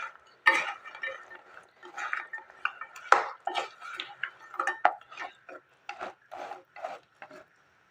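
Suji pitha mixture being stirred in a pan over low flame, a series of dry scraping and rasping strokes of a spoon against the metal, close and uneven in rhythm, with brief pauses between them.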